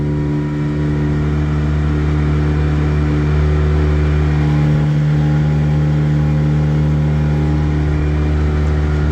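A tiny houseboat's small motor runs at full throttle heading into an 8 to 10 mph wind, a loud, steady droning hum that holds constant and sits close throughout with no talking.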